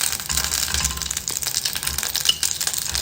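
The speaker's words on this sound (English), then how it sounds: "Then have to stir fry a little bit" Stir-frying chicken with sweet basil for three cup chicken in a pan, a close, steady crackling sizzle with rattling scrapes of the utensil against the pan, continuous throughout without talk.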